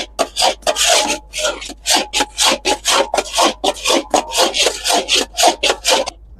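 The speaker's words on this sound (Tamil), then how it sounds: "முந்திரி கேக் அடிச்சு முடிச்சாச்சு" A rhythmic scraping and rubbing repeats quickly and steadily, close and loud, as a thick cashew cake mixture is stirred and pressed in a pan over low flame, with no talking.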